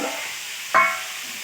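Vegetables fry in a pan with a splash of water, giving a steady soft sizzle with one brief clatter of stirring partway through.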